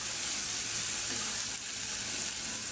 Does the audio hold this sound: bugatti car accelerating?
no